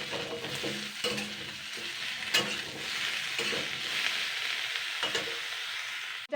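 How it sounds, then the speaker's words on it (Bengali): Eggplant frying in a pan while being stirred, a steady close sizzle with periodic scraping strokes and soft knocks of the utensil against the pan. "বেগুনটা দিয়ে আমি আরও 1 মিনিট নাড়াচাড়া করে নেব।"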